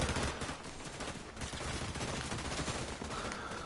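A chaotic Fortnite firefight packs dense, continuous gunfire, with overlapping shots and bursts from several weapons crackling loudly and without pause.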